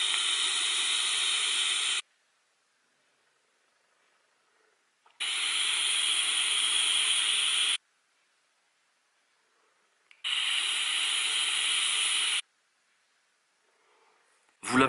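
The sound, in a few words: e-cigarette vaping, Eleaf iJust One kit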